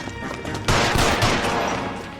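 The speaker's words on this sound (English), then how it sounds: "then you can fire a warning shot, but it's really hard." Gunfire in the crime video game L.A. Noire, with a sudden loud burst of shots and crackling after a quieter start, continuing as a dense noisy rumble to the end.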